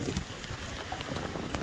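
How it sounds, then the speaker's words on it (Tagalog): Wind rushes across a hilltop in a steady, close, rough roar that buffets the microphone. "Mahangin lang, nakatakot."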